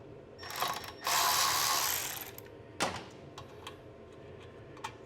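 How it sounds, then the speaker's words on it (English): Ratchet wrench taking out the last carburetor bolt on an Ariens 624 snow blower, heard as a burst of fast ratcheting clicks followed by a few scattered clicks and taps, close and fairly quiet. "Now we can go ahead and take the last bolt out of the carburetor"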